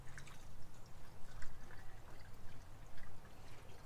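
Diesel fuel pours into a fuel filter with a soft, steady gurgling trickle and occasional drips, fairly quiet and close, with no talking.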